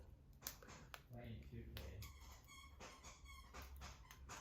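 A pet dog makes faint, scattered sounds in the background of a bedroom, partly buried under nearby voices and rustling movement.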